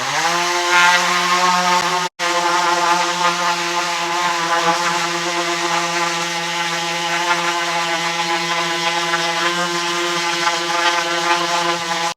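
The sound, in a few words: orbital sander with 60 grit sandpaper sanding thin wood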